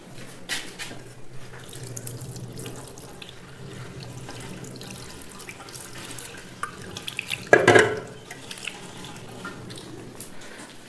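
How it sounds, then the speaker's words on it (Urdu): Hands are washed under a running tap, a soft steady stream of water with small splashes and one louder burst of splashing as the hands move under the flow. "اس کے بعد جو ہے نا وہ آپ اپنے ہاتھ دھو لیں"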